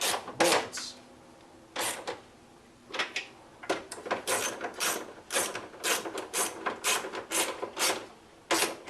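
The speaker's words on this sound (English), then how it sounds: "I'll tighten back up these 3 bolts." A hand ratchet tightens three bolts on the lower window trim of a Ford Ranger (B4000), giving bursts of rapid close clicking separated by short pauses.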